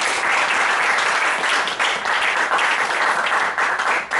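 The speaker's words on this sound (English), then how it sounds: "Please give a huge round of applause for him." Toastmasters audience giving a speaker a big round of applause: dense, steady clapping from many hands that fills the room, loud and continuous with no voices over it.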